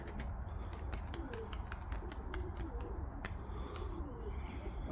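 Pigeons' wings flap in flight in a series of sharp, irregular claps, with soft cooing and chirps over a low, rumbling outdoor background.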